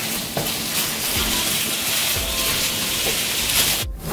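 Ground turkey browns in a hot pan, sizzling steadily up close, with a few scrapes of stirring as it cooks.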